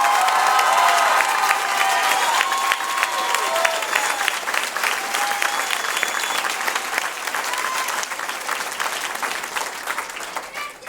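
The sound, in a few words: audience applauding the participants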